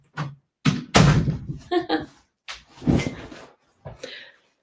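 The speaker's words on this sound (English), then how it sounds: "Closing the door." A door swings shut with a solid thud indoors, followed by a second dull knock, amid nearby voices.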